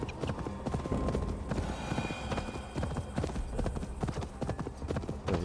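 Hooves of a galloping horse in Assassin's Creed Valhalla drum in a rapid, continuous beat, close and prominent, with a faint whinny in between and nobody speaking.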